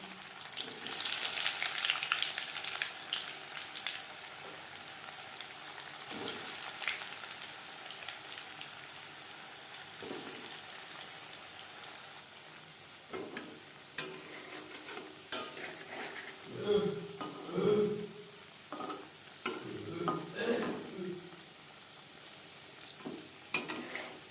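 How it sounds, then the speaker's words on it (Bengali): Egg devil chops fry in hot refined oil over medium flame with a steady bubbling sizzle, joined later by scraping and clinking of a utensil against the pan. "চপ ভাজবার জন্য বেশ খানিকটা রিফাইন্ড অয়েল গরম করে নিয়েছি।"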